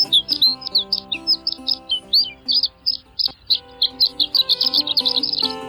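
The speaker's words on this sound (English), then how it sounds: "the male performs a courtship flight in which he ascends to 800 feet or more above the earth and sends forth a high-pitched, tinkling flight song" A male bird's high-pitched, tinkling song given during a courtship flight far above the ground: a long, rapid run of bright, repeated chirping notes, clear and steady with no voices.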